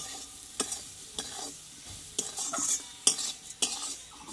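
Potato, carrot and fried semolina stirred in a pan, with sharp metal spoon scrapes and clinks at irregular intervals over a soft background sizzle.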